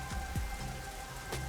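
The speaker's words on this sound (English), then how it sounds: "The rain just won't stop, huh?" Steady rain falls in the game Master Detective Archives: Rain Code, a soft continuous patter with a few brief louder drops or splashes standing out, no voices over it.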